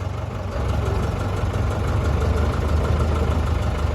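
The diesel engine of a JCB jack system runs steadily while lifting a vehicle, a loud continuous low rumbling drone that builds slightly after the start and holds without a break.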